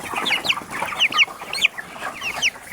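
Broiler chickens cluck and peep close by, their short high-pitched calls overlapping in a busy, irregular chatter from several birds and no human voices.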